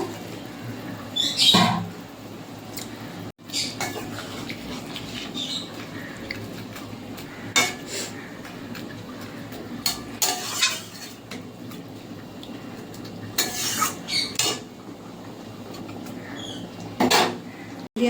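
Fried amudi fish going into a potato and brinjal curry pot, with scattered metal spoon clinks and scraping stirs across a long stretch, some faint bird chirps in the background.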